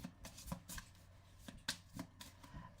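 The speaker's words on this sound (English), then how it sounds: "I've been shuffling and shuffling and shuffling." Soft, close riffling and tapping of a Major Arcana tarot deck being shuffled by hand, a series of quiet card flicks and light knocks in an irregular rhythm.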